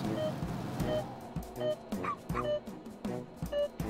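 Puppies in the video game Wobbly Life let out short, repeated high yips and barks in quick succession over a busy game background, with a faint hint of engine noise.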